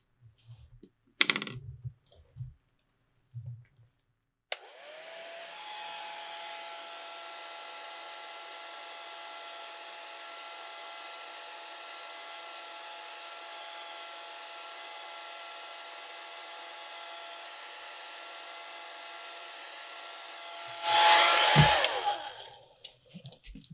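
A hair dryer blows steadily for about sixteen seconds to dry a watercolor painting of an autumn pumpkin, a constant close whir that switches on and off, with brief handling sounds before it starts.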